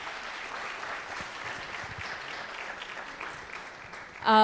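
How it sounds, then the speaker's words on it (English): A panel gets a full round of audience applause at a Big Data case study event on the Philippine elections. The clapping is dense and steady throughout, and a louder tonal burst cuts in at the very end. "Please give them a round of applause."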